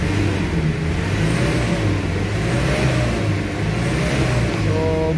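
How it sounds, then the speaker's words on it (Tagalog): A Ford pickup engine, running with black smoke, throttle delay and vibration, revs loud and close from underneath the vehicle, a continuous dense rumble with slowly rising and falling pitch. "Pakinggan niyo mabuti yung RPM."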